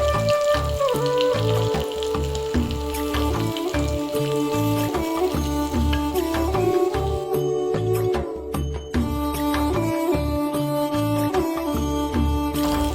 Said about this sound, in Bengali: একদম হালকা ভাবে ভাজবে, নাহলে পুড়ে যাবে। এরকম লাল লাল করে ভাজতে হবে।